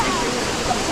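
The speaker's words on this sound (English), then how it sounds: "There's a smaller waterfall here that you can put your hands in." A small waterfall along the Ingleton waterfalls trail, a steady close rush of falling and splashing water that fills the whole moment without a break.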